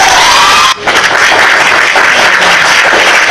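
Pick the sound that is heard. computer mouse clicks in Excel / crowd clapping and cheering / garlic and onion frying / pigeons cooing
crowd clapping and cheering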